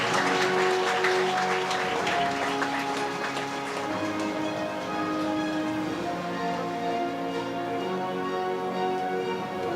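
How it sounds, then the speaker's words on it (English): Audience applause at an HWPL commemoration ceremony of the Declaration of World Peace, a steady crowd of clapping hands filling the hall for about ten seconds over a faint sustained musical background. "Please give all of them a big round of applause."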